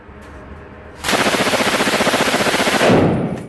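An MG42-type machine gun fires one long, very rapid burst of about two seconds after a quiet lead-in. The shots blur into a loud, ripping roar.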